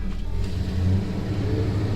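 Old square body truck rolling along on a brake test, a low steady engine rumble with a deep drone and a slight rise in revs, close and continuous with no talk.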